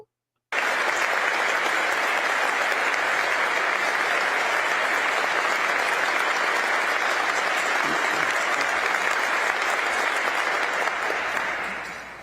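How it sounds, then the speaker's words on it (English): Sustained audience applause at a religious lecture, a dense steady roar of many hands clapping at full strength for about eleven seconds before tapering off at the end, with no talk over it. "They clap longer for you."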